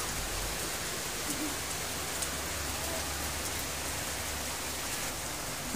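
Heavy rain pours steadily, a dense, continuous hiss of drops pattering on surfaces, loud and unbroken with no voices.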